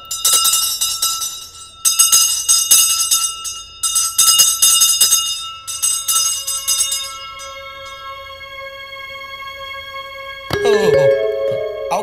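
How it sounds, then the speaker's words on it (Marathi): A handbell rings as the third bell before a Marathi stage play begins, several bright clanging bursts with pauses, then a long ringing decay and a final jangle, all close and loud. "चला विठोबा घंटा चल तिसरी बेल देऊया."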